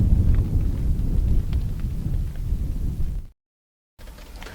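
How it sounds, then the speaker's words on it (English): Heavy rainstorm in Quartzsite pours down with a deep, rumbling wash of low noise, steady and close, then cuts out abruptly before resuming. "You can see the rain, and it's definitely coming this way."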